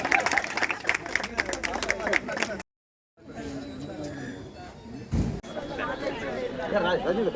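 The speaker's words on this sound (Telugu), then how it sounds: "క్లాప్స్ కొట్టాలి." An indoor audience at a hospital corneal donation centre opening claps and chatters, a dense crowd sound broken by a brief silence before murmuring voices and clapping resume.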